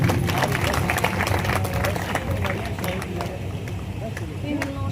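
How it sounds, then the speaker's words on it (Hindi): Crowd claps for a donor at a Shree Shyam devotional jagran held at a temple in Sisana, steady dense applause mixed with crowd murmur and voices throughout. "श्री साहिल जी के लिए एक बार जोरदार तालियां"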